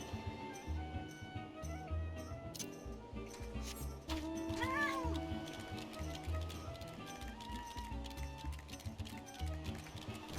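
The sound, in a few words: cat meowing in video game Final Fantasy XIV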